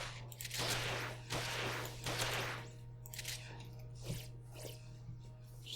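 Shooting in DynaMarisa 3D, a Touhou fan game, comes in several fairly quiet, rapid bursts separated by short pauses, with a steady low hum underneath.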